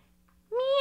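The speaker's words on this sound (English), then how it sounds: ""Meow, meow," cried the cat." A single short cat meow from a read-aloud of The Very Busy Spider, a clear rising-then-falling cry that comes in abruptly after near silence, fairly close and alone.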